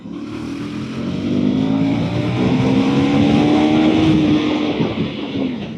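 A 2024 KTM Duke 390 motorcycle being ridden at speed, its engine drone rising steadily and holding high with a slow climbing pitch, loud and close with wind rush over it.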